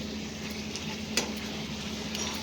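Chicken with fried ginger-garlic paste is stirred in a pan over a soft, steady sizzle, with a single sharper scrape or clack of the utensil midway and faint clinks around it.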